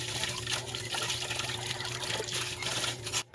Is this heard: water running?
yes